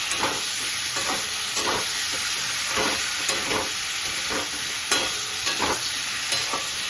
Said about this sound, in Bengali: তা এখন কচুটা দিয়ে দেবো, দিয়ে একটু কষাবো আলুর সাথে কচু দিয়ে